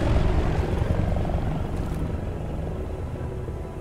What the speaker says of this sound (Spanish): Helicópteros rusos, tío.